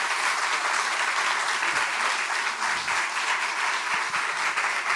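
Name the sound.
audience applause for Josefina Licitra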